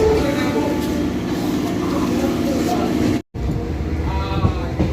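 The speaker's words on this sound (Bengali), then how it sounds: "এই মুহূর্তে এসে কিন্তু আমাদের ট্রেন পৌঁছালো ফুলিয়া" A train rolls into Phulia station with a steady, loud rumble and rattle of carriages, briefly cut off for a moment before it resumes, while a voice talks over it.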